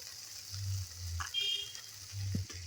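Chopped tomato and salt land in a hot frying pan, giving a steady close sizzle of frying that swells in bursts with a brief scrape of stirring partway through.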